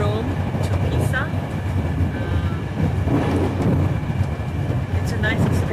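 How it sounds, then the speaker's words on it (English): Inside a train travelling from Rome to Pisa, a steady rumble and rattle of the carriage runs continuously, with speech over it throughout. "Now sitting in a train on our way from Rome to Pisa."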